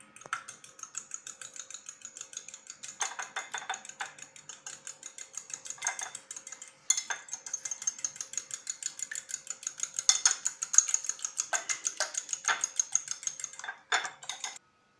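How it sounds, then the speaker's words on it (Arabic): An egg is whisked briskly in a bowl for crispy chicken croquette coating, a rapid, regular metallic clicking and tapping that runs close and clear throughout, with brief pauses and a final flurry. "هلا أول إشي رح نخفق البيضة هون كتير منيح."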